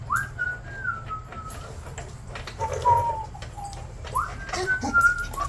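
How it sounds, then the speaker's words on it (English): A man whistles a few short sliding tones, falling and rising notes in soft phrases with pauses between them, over a low steady rumble and light background clatter in a workshop. "I just like to whistle, boys"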